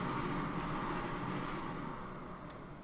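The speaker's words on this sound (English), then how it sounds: "can you guys hear the train?" A passing train rumbles as a steady broadband roar, fairly faint and distant, slowly fading over a few seconds with no talk over it.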